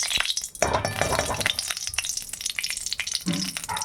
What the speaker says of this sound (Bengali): এবার আমি এই যে গোটা গরম মশলা, শুকনো লঙ্কা, জিরে তেলের মধ্যে দিয়ে দিলাম